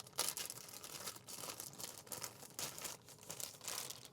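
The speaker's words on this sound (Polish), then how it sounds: "czekajcie, to rozpakuję" Crinkling and rustling of plastic packaging being handled and pulled open, a steady stream of crackles close by with no talking.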